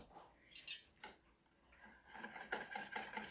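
Sweet corn cake batter being mixed in a bowl, with quiet scraping and clinking of a utensil against the bowl in irregular strokes, close and faint, no talking.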